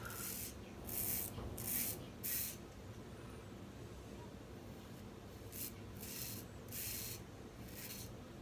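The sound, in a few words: shaving a head with a Muhle R41 safety razor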